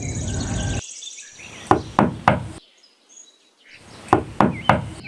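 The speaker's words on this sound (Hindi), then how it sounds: "अपनी बहन के घर पहुंचकर चंदा कवि दरवाजे पर दस्तक देती है" Knocking on a wooden door in a Hindi cartoon about crows in a forest: two sets of three sharp knocks, close and loud, over faint bird chirps and a background tone.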